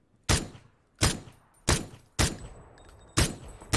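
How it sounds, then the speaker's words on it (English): Gunfire in PlayerUnknown's Battlegrounds: five sharp single shots ring out at fairly even intervals, each cracking loud and then dying away quickly into near silence. "I am going to shoot him."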